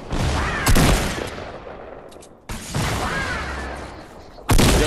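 Heavy video game gunfire rattles in continuous loud bursts, with sharp louder volleys near the start and end and a brief lull in the middle.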